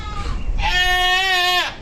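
A goat gives one loud, close, wavering bleat lasting about a second, alone and not under talk.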